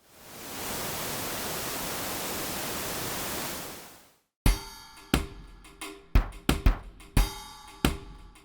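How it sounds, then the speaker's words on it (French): A steady wash of hissing white noise plays for about four seconds, then gives way to a rhythmic pattern of sharp drum hits that each trail off into a decaying noisy tail, the noise shaped by a binaural rhythm. "ensuite un bruit blanc non binaural convolué avec cette même rythmique binaurale"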